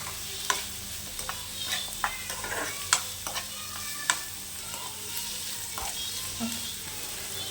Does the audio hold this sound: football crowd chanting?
no